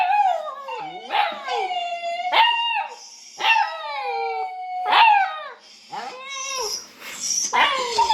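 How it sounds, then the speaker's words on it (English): A dog howls and cries in repeated mournful, wavering wails that rise and fall, close and fairly loud, with short pauses between the drawn-out cries. "Dog crying over sadness."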